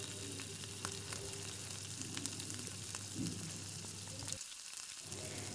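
Marinated mutton frying in oil over a high gas flame, a steady loud sizzle with occasional stirring scrapes and a brief dip near the end, no talking.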